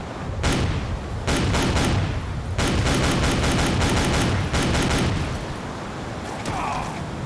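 Gunfire in the video game World War Zero (Iron Storm): loud, sustained bursts of automatic shots in several long volleys with brief pauses between them, dense and close.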